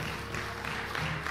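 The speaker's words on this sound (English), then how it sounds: "let's give God a hand clap of praise" A church congregation claps in praise during a Sunday worship service, a dense, steady wash of many hands clapping together, moderately loud and unbroken, with no voices standing out.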